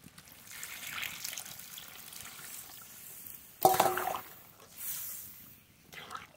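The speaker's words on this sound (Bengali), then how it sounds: "কষানো হয়ে গিয়েছে, এবার জল দিয়ে দেব" Water poured into a pan of spiced vegetable curry that has been fried down with masala, a short splashing burst in the middle over a quiet kitchen background, followed by a softer gush.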